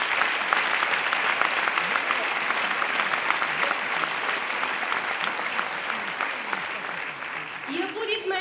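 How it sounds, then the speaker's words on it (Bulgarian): Audience applause for the ensemble conductor at a Bulgarian orchestra concert, sustained dense clapping throughout with a voice briefly speaking near the end. "Аплодисменти и за Любен Касалов"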